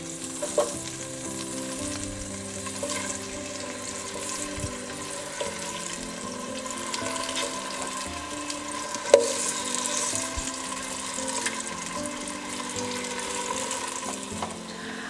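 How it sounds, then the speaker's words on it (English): Potatoes frying in olive oil in a pot on the stove, a continuous hiss and sizzle with occasional stirring clinks, close and steady with no talking. "added a couple of tablespoonfuls of olive oil, and now we're going to put these potatoes in there"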